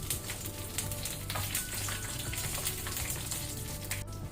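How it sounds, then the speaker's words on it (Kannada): Dry red chillies frying in hot oil on a low flame for chicken uppu kari, a dense, even crackling sizzle held steady and close for the whole stretch. "ಈಗ ಇದನ್ನು ಸ್ವಲ್ಪ ನಾವು ಫ್ರೈ ಮಾಡ್ಕೊಳ್ಳೋಣ ಮೆಣಸನ್ನು."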